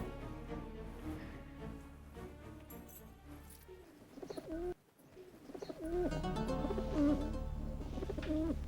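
Soft pigeon cooing repeats amid background noise, with a brief dropout midway before the low, throaty calls return.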